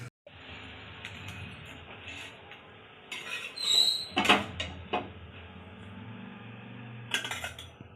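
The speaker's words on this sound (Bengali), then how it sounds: "ভালো করে ফেটিয়ে নিই।" Homemade dosa batter is whisked in a bowl, giving steady scraping and clinking of the utensil against the dish, with a few louder knocks midway. No one speaks.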